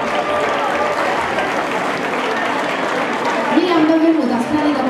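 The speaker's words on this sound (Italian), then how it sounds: "Facciamo un bel applauso a Miriam Cadurro." An audience at an Italian awards ceremony applauds in a dense, steady wash of clapping, with a voice speaking over it near the end.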